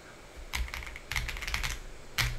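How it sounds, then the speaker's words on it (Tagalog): Rapid keystrokes on a Feker K75 mechanical keyboard, clacking in several quick bursts with short pauses between them, close up and fairly loud, with no talking. "Start keyboard test."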